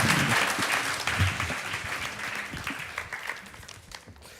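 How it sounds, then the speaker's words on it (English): An audience applauds at a World Press Photo presentation event, with a dense wash of clapping that is strongest at the start and slowly tapers off. No speech is heard. "give them a warm applause, please"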